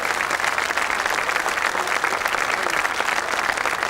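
Theatre audience applauding the players after an amateur stage play, a steady, dense round of clapping from a full hall, sustained and even throughout with no voices standing out.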